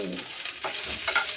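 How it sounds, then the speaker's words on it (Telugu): Oil spattering and sizzling in a frying pan while nalleru stem chutney is cooked, with a clink of stirring partway through; a steady close crackle throughout, no talk. "కొంచెం చుట్టుపక్కల ఆడుతుంది ఆయిల్"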